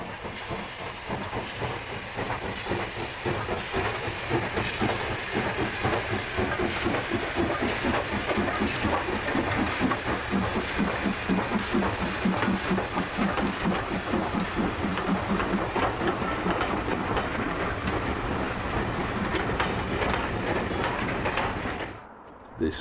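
Heritage train hauled by a former Great Central 04 steam locomotive on a British railway, a loud sustained rumble with rhythmic chuffing, hissing steam and wheel clatter, fading out at the end.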